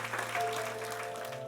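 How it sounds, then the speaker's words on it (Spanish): Congregation clapping during a church service, a steady dense patter of many hands at moderate distance with a sustained tone in the background. "Dale un aplauso al Señor."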